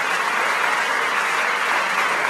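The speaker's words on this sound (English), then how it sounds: "Let's give them a round of applause." A brief, even burst of audience applause at a small Brooklyn venue event, full and close, with continuous clapping and no voices over it.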